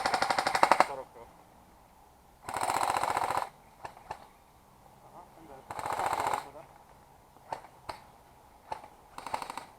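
Airsoft guns fire in several rapid bursts during a bunker assault outdoors at Szentendre, with louder close volleys and sharper single shots in between, while players talk quietly.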